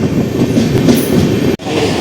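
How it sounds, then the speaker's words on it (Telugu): Riding the Tirupati Express out of Chennai Central at cruising speed, around 112 km/h, brings a loud continuous rumble with rhythmic wheel clatter and a faint squeal, with no voices. "మన ట్రైన్ అయితే ఎంజీఆర్ చెన్నై సెంట్రల్ దాటిన తర్వాత క్రూజింగ్ స్పీడ్ బాగా అందుకుంది"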